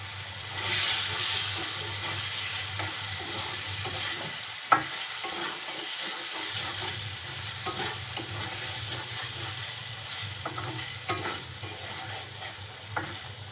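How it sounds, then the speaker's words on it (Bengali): Fish frying in oil and spices while being stirred in a pan, a continuous close sizzle broken by scraping and clinking strokes, with a brief quieter dip midway. "মাছগুলো এখন তেল আর মশলার সাথে ভালোভাবে নাড়াচাড়া করে কষিয়ে নিচ্ছে"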